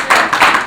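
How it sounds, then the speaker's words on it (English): Brief burst of audience clapping for forum panelists, a few loud close claps in quick succession. "give a hand for our panelists"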